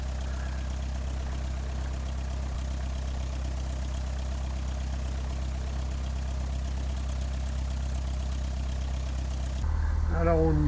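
A Cessna light aircraft's piston engine running steadily before takeoff, a loud, constant droning hum close by that surges louder near the end as the throttle opens, with a voice talking briefly over it.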